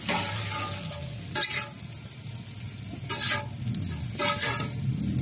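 Egg with baby prawns stirred in a hot pan, a continuous crackling sizzle broken by several louder scraping stirs, close and fairly loud.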